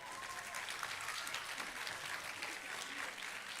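Steady audience applause at an orchestral concert, a continuous even wash of many hands clapping at moderate distance, fairly quiet throughout.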